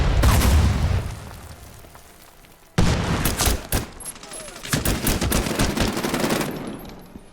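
Powerful gunfire in a shooter video game: heavy bursts of rapid shots with booming impacts, loud and close, broken by a brief quieter pause before the firing resumes.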